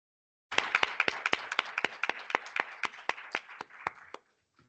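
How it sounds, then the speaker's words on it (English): Sparse, close applause from a small group at a school board of education meeting, about twenty distinct claps over several seconds before stopping abruptly. "So let's just give her a round of applause."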